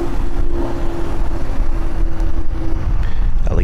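A 2006 Cadillac DTS with its Northstar V8 runs close by, a loud, steady low rumble with a constant droning tone and some wind-like roughness, no speech.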